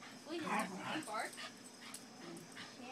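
Puppies playing, with a small dog giving short high whimpering yips and a bark-like sound close by, mixed with people talking.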